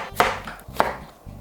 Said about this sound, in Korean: 일단 양파를 썰어줍니다.